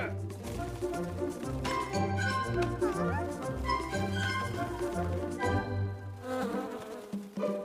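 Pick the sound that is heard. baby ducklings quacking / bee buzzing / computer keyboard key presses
bee buzzing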